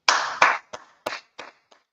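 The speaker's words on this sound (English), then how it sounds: "Let's clap it up for the Lord." A handful of loud, crisp hand claps at a religious class, six separate claps in an uneven rhythm, close and dry with silence between them, the last one faint.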